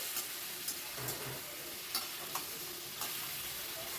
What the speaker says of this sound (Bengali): অনবরত নাড়ছি।